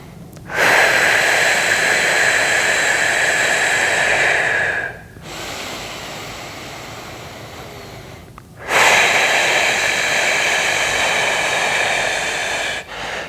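Slow, deep breaths during a hamstring bridge on a foam roller, two long airy exhales of about four seconds each, close and loud with short pauses between, no talk.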